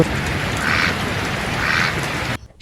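A cartoon duck in a forest story gives two short, separate quacks about a second apart over a steady rain-like hiss, and the sound cuts off abruptly near the end.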